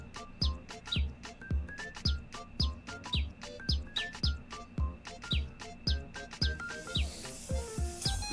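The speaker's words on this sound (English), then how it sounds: "The birds talk about their home lives." Video-game birdsong from a wren and a canary: bright, repeated chirps and whistles in a steady rhythmic pattern, clear and close, set over soft percussive game music.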